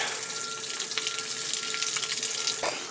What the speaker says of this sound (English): I'm going to just come out here and let's empty the water